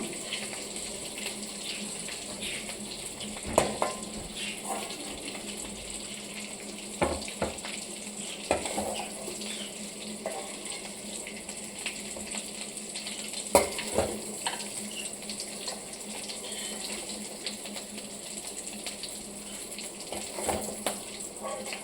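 Cut bitter gourd and potatoes frying in a pan, a soft steady sizzle with occasional louder crackles and stirring clinks, fairly quiet throughout.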